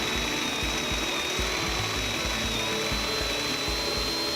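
Steady, loud drilling of a tapping machine cutting through a pipe sidewall, with a constant high whine and a rhythmic low chugging underneath, continuous throughout.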